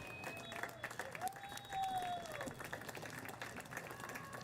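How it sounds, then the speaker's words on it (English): Applause and clapping from a crowd at an all-star youth soccer game, a broad steady wash of claps with crowd noise and a brief tonal whistle-like sound in the middle. "let's all give all of these guys a big round of applause"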